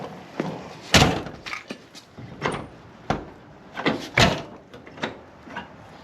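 A Fox Body car door handle is worked by hand to lock it manually, giving a series of sharp clunks and clicks spaced irregularly, close and fairly loud against a quiet background.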